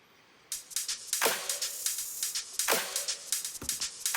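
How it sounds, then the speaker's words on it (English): Electronic clap loop in an EDM drop built in Logic Pro, snappy claps recurring in a steady pattern over busy bright hi-hat ticks, close and loud with no voices. "Finally, just another clap loop as well."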